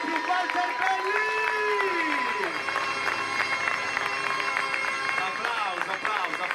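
Audience clapping and cheering at an outdoor trial bike stunt show in Marina di Ragusa, a steady crowd wash of applause at moderate distance with some voices and a brief whistle-like tone over it.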